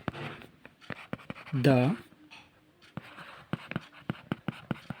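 Pen scratching on paper while working through a maths solution, short bursts of writing strokes close and clear, with a voice speaking between them.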